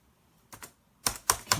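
Laptop keyboard keys pressed on a motherboard-swapped Fujitsu laptop, two soft taps followed by three louder, sharper clacks in quick succession, close and alone.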